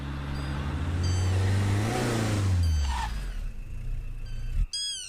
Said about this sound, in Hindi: गाड़ी साइड में लगा।